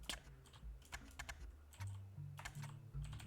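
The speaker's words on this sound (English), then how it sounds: "my typing today is not on point" Rapid typing on a computer keyboard, fast irregular clicks and clacks in quick bursts with short pauses, close and fairly quiet, with no speech over it.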